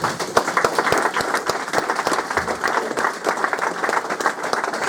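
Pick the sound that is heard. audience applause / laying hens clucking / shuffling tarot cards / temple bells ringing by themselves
audience applause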